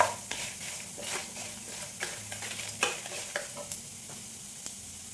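Dried red chillies sizzle in hot oil for Udupi rasam, giving a quiet, steady crackle with intermittent sharp scraping taps from a spoon stirring the pan.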